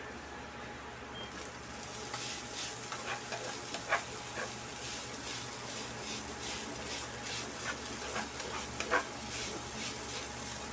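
Fried rice sizzling and being stirred in a pan for Hungarian sausage silog, a steady frying hiss throughout with scattered scraping stirs and a couple of sharper clicks.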